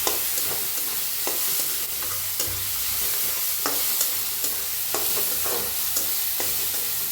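Onion and asafoetida frying in hot oil give a steady, close sizzle, broken by occasional knocks and scrapes of a spoon stirring the pan.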